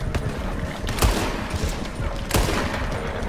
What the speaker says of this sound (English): I'm trying to shoot people